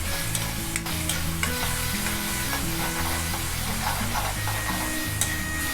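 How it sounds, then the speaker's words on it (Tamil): Onions and tomatoes sauté in a pan with a steady, loud sizzle and occasional stirring scrapes, continuous and close with no voices. "வெங்காயமும் தக்காளி நம்மளுக்கு சாத்தி ஆகிடுச்சு"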